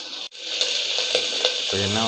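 Mustard seeds fry in hot oil in a pan, a bright continuous sizzle with a few sharp pops and crackles, close and loud.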